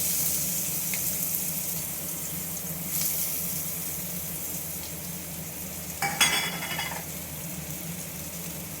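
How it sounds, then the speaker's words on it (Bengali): Chopped onion frying in hot oil keeps up a steady, close sizzle throughout, with a louder crackling burst partway through when the pan is stirred or disturbed. "তেল গরম হয়ে গেছে, আমি এর মধ্যে পেঁয়াজ কুচিটা দিয়ে দিলাম।"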